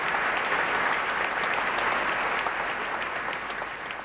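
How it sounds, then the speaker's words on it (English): Audience at the 2006 NASCAR Nextel Cup Series awards banquet applauds, a dense, steady wash of clapping from a large room that fades slightly toward the end. "you gotta clap for your husband"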